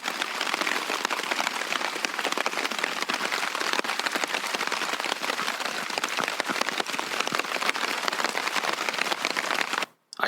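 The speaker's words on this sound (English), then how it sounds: "I'm basically just waiting for the rain to let off a little bit" Heavy rain drumming on a tent during a walk across America, a dense, loud, continuous patter of drops close overhead that cuts off abruptly at the very end.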